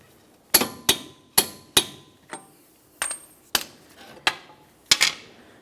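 A torque wrench tightens a bolt on the front lower control arm of a 2003–2007 Honda Accord, giving about ten sharp metallic clicks in an uneven rhythm, each with a short ring, close by in a quiet space.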